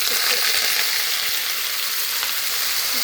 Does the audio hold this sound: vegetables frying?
yes